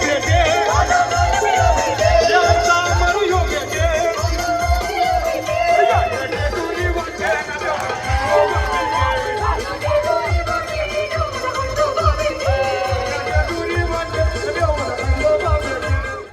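A crowd of young men walks in the Ekvira Aai palkhi procession near Lonavala, cheering and chanting loudly over a fast, steady drumbeat that keeps going throughout.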